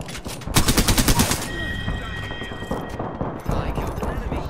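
A rapid automatic burst of gunfire in an online shooter video game, loud and close, followed by scattered quieter shots and game noise.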